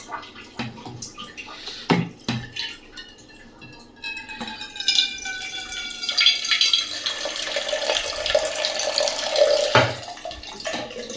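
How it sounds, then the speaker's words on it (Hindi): Water flows from an Aquaguard purifier into a vessel, a steady splashing stream with a rising pitch as it fills, preceded by a few knocks and clinks, close and without voices. "हमारा एक्वागार्ड"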